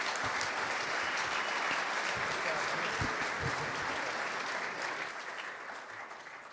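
An audience at the Hermann Trophy awards ceremony applauds the finalists, a broad, sustained round of clapping that gradually thins and fades toward the end.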